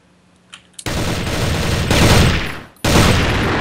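Rapid bursts of gunfire in the video game CrossFire rattle loudly after a couple of faint clicks, sustained volleys with a brief gap between them.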